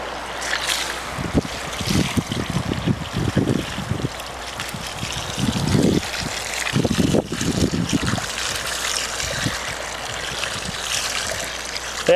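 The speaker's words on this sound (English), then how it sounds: "So I'm going to go ahead and just water it a little bit more here" Water from a garden hose splashes onto soil around a newly planted tree outdoors, a continuous rushing trickle with gusty, wind-like bursts, fairly close and steady.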